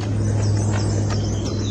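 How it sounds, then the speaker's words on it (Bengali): Many birds calling outdoors in Darjeeling, faint chirps and tweets scattered over a steady low hum of background noise, with no one speaking. "প্রচুর পাখি ডাকছে, প্রচুর।"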